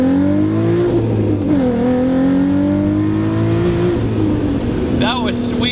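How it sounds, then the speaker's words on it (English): A Volkswagen MK4 Golf R32 launched from a standstill, its engine revving hard and climbing through the gears with steady, loud harmonic tones, a brief dip at a shift and a short whine near the end, with voices underneath. "this is how you launch an R32."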